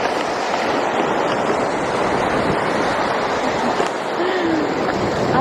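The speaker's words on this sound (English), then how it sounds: "Those waves are huge." Ocean waves break on an Australian beach in a continuous roaring wash, steady and loud, mixed with blustery wind buffeting the microphone.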